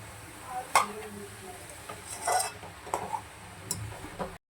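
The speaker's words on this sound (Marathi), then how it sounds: "मला असं मस्त नीट फ्राय करून घ्यायचं आहे तुपामध्ये, साजूक तुपामध्ये" Grated carrot frying in ghee in a pan, a faint sizzle under scattered spoon scrapes and light clinks, quiet overall with no talk.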